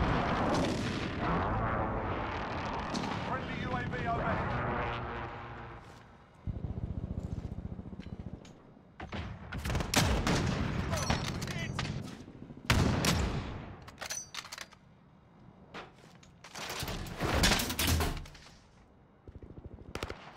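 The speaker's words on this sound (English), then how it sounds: "Be advised, friendly precision airstrike inbound." Call of Duty Modern Warfare multiplayer battle with a precision airstrike: heavy rumbling explosions up front, then bursts of sharp gunfire and machine-gun fusillades in irregular clusters, loud and close, with no talk.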